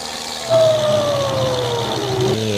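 In a truck-driving video game, a police siren wails with a descending tone over a constant engine drone, loud and close for a couple of seconds.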